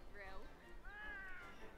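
A cat in the Monster Hunter World video game gives two drawn-out meows, one short and one longer and rising, close by with game ambience and someone speaking underneath.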